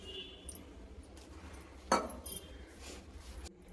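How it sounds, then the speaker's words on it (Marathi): A spoon stirs thick wheat flour batter in a bowl, giving faint, quiet scraping with a few light clinks against the bowl and one brief louder knock near the middle. "हे थोडं थोडं घालून आपण मिक्स करून घ्यायचं"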